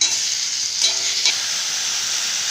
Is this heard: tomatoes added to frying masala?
yes